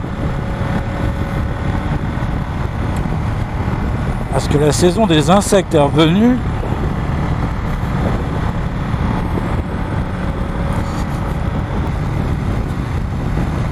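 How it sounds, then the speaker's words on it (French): The twin-cylinder engine of a Ducati Diavel 1260 S hums steadily underneath while it is ridden along country roads, with wind noise throughout and someone talking over it. "on entend le bicylindre, bien sûr on n'entend plus l'échappement"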